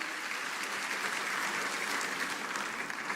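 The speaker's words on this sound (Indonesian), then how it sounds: "kita tepuk tangan yang paling meriah bagi Dia" A church congregation gives lively applause during a Christmas service, the clapping a continuous, fairly distant wash that holds steady without speech.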